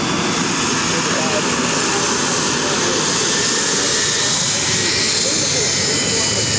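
Loud, steady roar of a T-28 warbird making a low flash pass over the airfield at an airshow, its broadband engine noise sustained without a break, with voices over it.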